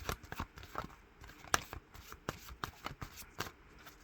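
Playing cards handled and dealt, with quick crisp flicks and snaps in an irregular rhythm, close and fairly quiet, one sharper snap standing out.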